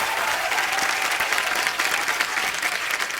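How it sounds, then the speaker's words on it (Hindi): Loud, sustained studio audience applause at a Hindi comedy talk show as a guest is welcomed, a dense steady wash of clapping with no speech over it. "जोरदार तालियां।"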